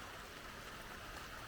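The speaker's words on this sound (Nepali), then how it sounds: "पानी पर्नु लागेको छ, पानी परिसक्यो" Rain falls steadily in a misty hill setting, a faint, even hiss of drops on surfaces with no voices.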